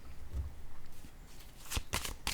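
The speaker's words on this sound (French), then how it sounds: "Je vais déposer une carte ici." A playing card set down on a table during a card game, giving a few short, sharp papery slaps and flicks near the end, close and clear over a faint background.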